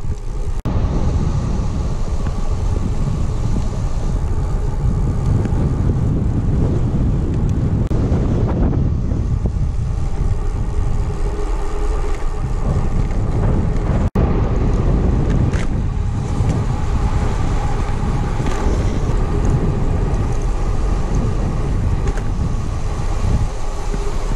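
Strong wind buffets a cyclist's microphone while descending after the Col de la Sauce in the Drôme Provençale, a loud continuous roar with surging gusts and no speech.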